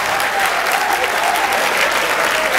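An audience at a comedy show in Côte d'Ivoire applauds a man, producing a dense, steady wash of clapping that stays loud and even for the whole moment, with no pauses.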